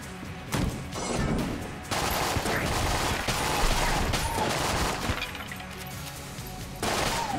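A powerful gun in Enter the Gungeon fires in dense, rapid bursts, loud crackling volleys running almost continuously with brief gaps, amid clanking game effects and no speech.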